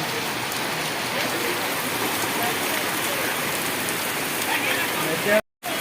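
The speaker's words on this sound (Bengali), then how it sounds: "বৃষ্টির মধ্যে এখন আমি বাড়িও যেতে পারছি না, কারণ এত যে বৃষ্টি হচ্ছে" Heavy rain in Chandannagar pours down steadily in a dense, continuous hiss of drops on surfaces, loud and close throughout before cutting off abruptly near the end.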